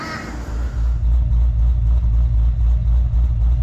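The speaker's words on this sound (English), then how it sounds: "that rumble of an LS supercharged V8 on idle" A 2014 HSV VF GTS with its supercharged LSA V8 idling, a loud, close, steady low rumble with slight pulsing after a brief higher noise at the start.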